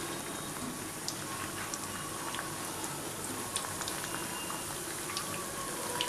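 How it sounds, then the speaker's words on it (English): Papdi dough crisps fry in hot oil over a high flame, giving a steady, quiet bubbling sizzle that runs unbroken throughout, with small crackles scattered through it and no talking. "We have to fry these papdis."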